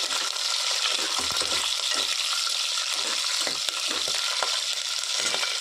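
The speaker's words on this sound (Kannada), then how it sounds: "ಇವರು ಆಯಿಲಲ್ಲಿ ಕರಿತಾ ಇದ್ದಾರೆ ಹಸಿಮೆಣಸಿಕಾಯಿ ಹಾಕೋಣ" Green chilies crackle and sizzle steadily in hot oil, a continuous frying hiss with small pops and occasional stirring scrapes, while making lemon rice.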